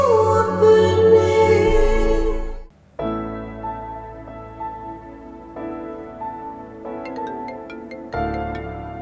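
A melodic phone ringtone plays in short repeating phrases, clear and close, pausing briefly before resuming its chiming pattern.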